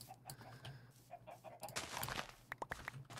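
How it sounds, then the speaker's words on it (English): Clucking chickens in the Minecraft modpack SevTech Ages, a flock heard through several short clucks and squawks scattered across the moment, with a brief noisy burst in the middle, fairly quiet and with no talk over it. "There's so many chickens here."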